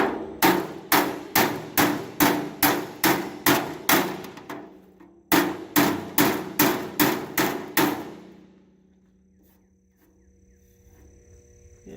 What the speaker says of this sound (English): So now we'll go back to the body hammer.